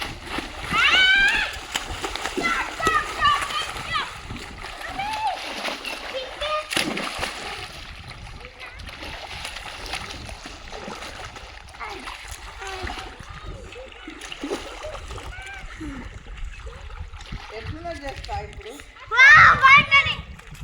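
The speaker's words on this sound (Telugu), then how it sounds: "ఈత కొద్దురా." Children swimming and splashing in water, bursts of loud splashing at the start and end with kids shouting and chattering throughout, and an adult voice speaking at times.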